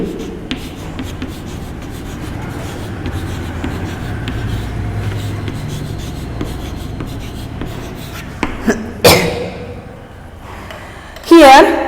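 Chalk scratching and tapping against a classroom board in steady strokes through most of the stretch, under nearby talk, with a couple of sharper knocks near the end.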